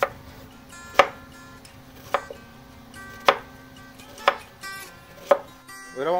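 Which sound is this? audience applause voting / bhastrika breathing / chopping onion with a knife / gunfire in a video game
chopping onion with a knife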